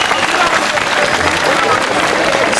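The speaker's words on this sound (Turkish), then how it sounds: "Sırıklı Sema ekibini alkışlarla uğurluyoruz dostlar" A village festival audience claps for the Sırıklı Sema dance team, a dense continuous wash of applause and crowd noise with voices mixed in.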